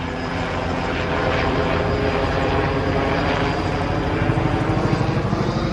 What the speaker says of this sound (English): as soon as this helicopter's done